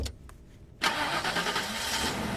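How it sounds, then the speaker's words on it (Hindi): A car engine cranks and fires after a moment of quiet, catching abruptly and then settling into a steady idle that runs on alone. "गाड़ी स्टार्ट कर।"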